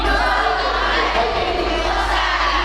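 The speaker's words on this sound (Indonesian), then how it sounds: "Tepuk tangan juga" A studio audience of women from a Majelis Taklim prayer group claps steadily in a loud, continuous wash of applause with no talk over it.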